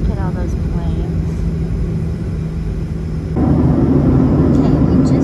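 An airliner, after a long wait on the tarmac, starts its takeoff with a steady cabin engine roar that suddenly swells louder partway through, and voices murmur under the rumble.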